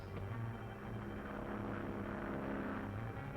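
A steady, droning propeller engine of an ambulance plane hums continuously at a low, even level, with no voices.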